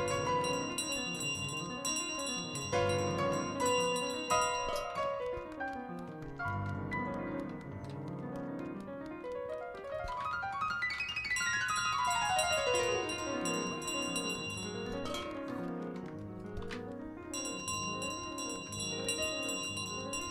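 A bell rings repeatedly in Untitled Goose Game as a goose carries it, mixed into steady plinking piano-like game music that swells and drops over about twenty seconds, with no talk.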